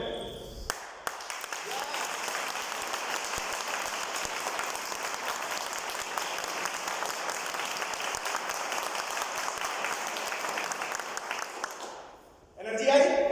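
An audience at a Vestige business-plan presentation breaks into long, sustained applause. The clapping holds at an even level for about eleven seconds, then stops abruptly, and a voice picks up right afterward.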